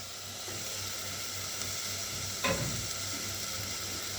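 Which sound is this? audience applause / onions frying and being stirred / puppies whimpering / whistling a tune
onions frying and being stirred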